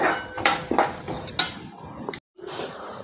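Fennel seeds, cumin and ajwain are dry-roasted in a lightly oiled kadhai, with irregular metal spatula scrapes and clinks against the pan, close and distinct, broken by a brief silence, no talking.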